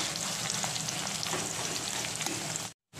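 Sliced onions sizzle and crackle steadily in hot oil as they fry into crisp beresta for a layered biryani, a dense, even hiss close by with no voices, cutting out briefly near the end.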